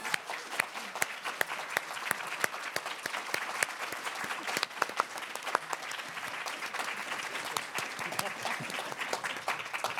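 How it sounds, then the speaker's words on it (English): Audience applause at a political talk event, dense hand clapping with crisp individual claps standing out, continuing evenly for about ten seconds and fairly distant. "Can we just give them a huge round of applause?"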